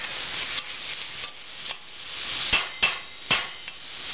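Green chilies and onion cooking in a pot, with a constant bright sizzle and several distinct knocks and scrapes of a spoon against the pot, close up and without talk.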